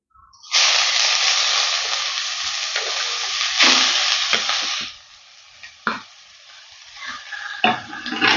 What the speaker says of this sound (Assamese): জাতিলাওখিনি এতিয়া মই অকণমান দেৰি ভাজি থাকিম